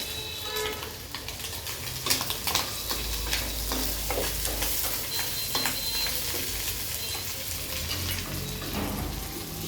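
Small river shrimp fry with green chilies in a pan, giving a dense, steady sizzle and crackle with occasional stirring scrapes throughout.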